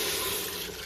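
Tamarind water pours into a pan of brinjal gravy for appala kuzhambu, a steady close splashing rush of liquid with no talk.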